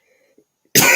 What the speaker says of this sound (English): I just coughed my soul out of my body